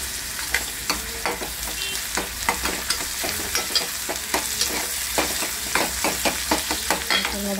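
Onions and tomatoes roast in a hot pan with a constant crackling sizzle, while a spatula scrapes through them in quick, regular strokes close by.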